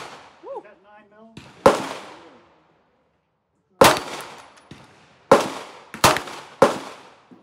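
Micro Draco 9mm pistol fired with a binary trigger at an outdoor range: sharp, loud cracking shots, a pair early on, then several rapid pairs after a pause, with brief voices in between.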